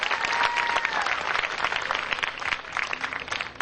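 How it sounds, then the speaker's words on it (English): An audience at a Relay For Life meeting applauds steadily, dense clapping with a few cheers and whistles, sustained and fairly loud throughout. "Yes, you can cheer that one on for sure."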